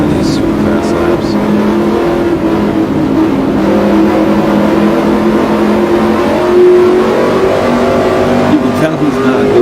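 Street stock race car engine droning steadily at high revs through fast laps on an oval track, heard close from onboard, loud and continuous with slight rises and dips in pitch.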